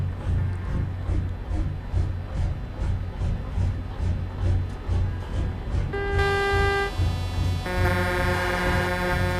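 A truck horn honks in a steady blare amid V8 engine rumble and traffic noise, then sounds again with a different tone, loud and near, in Euro Truck Simulator 2 multiplayer game audio.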